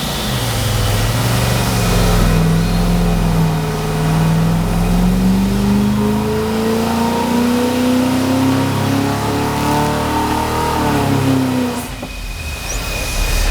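A BluePrint crate engine on a dyno winds up in one long pull, its note climbing smoothly in pitch and staying loud and close throughout, then cutting back near the end.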